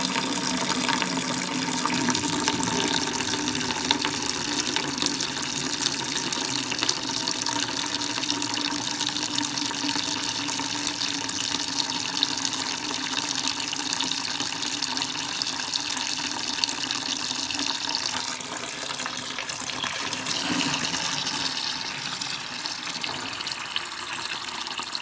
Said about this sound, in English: open it up, and it's going to release any water that's still in the line